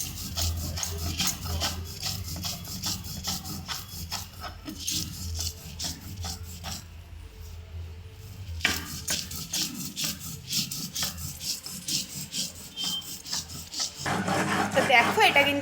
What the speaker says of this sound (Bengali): সমস্ত কিছু দিয়ে এবার এটাকে আমরা ভালো মতন করে বেটে নেব।